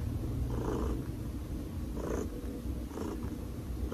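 A cat purrs close to the microphone in a steady, rumbling drone with three soft swells of breathy sound, fairly quiet, in a recording studio with no talking.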